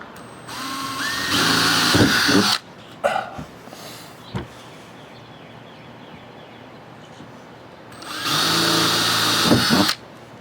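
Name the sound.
power drill drilling pilot hole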